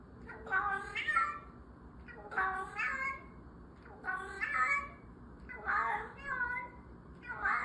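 A cat meows repeatedly in the "I Go Meow" meme sample, about six bright, drawn-out calls in a steady rhythm with brief gaps between them, close and clear.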